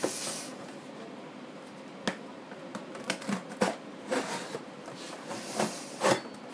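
A blade slices open the side of a cardboard box holding a 2013 MacBook Air 13-inch, giving a quiet run of scattered scraping cuts and sharp ticks at close range.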